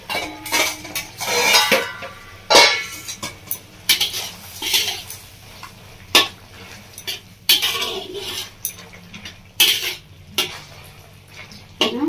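A metal cooking pot's lid is lifted and handled while a drumstick curry simmers, giving repeated sharp clanks and clatters of metal on metal in irregular bursts across the whole stretch, close and fairly loud.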